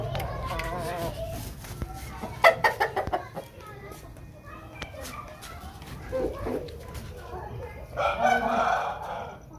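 A Lasani breed rooster clucks in short bursts and gives a crow near the end, close and fairly loud, mixed with someone talking over the bird.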